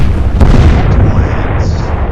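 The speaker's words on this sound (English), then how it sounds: "Multiple hits. Big explosion." A big naval gunfire explosion in the Atlantic Fleet video game: one loud, close boom followed by a rumbling tail that fades over about two seconds, with no talk.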